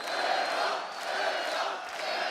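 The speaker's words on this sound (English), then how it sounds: "The crowd is going crazy chanting for Berat" A live MMA crowd roars and chants in rising and falling waves for a fighter, a dense continuous wall of voices with no separate speaker standing out.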